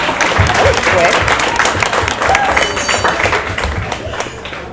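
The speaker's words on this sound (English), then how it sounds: "Give yourself a round of applause." A loud round of applause from an audience at a Women Grow DC gathering, dense and sustained clapping that tapers slightly toward the end, with a few voices under it.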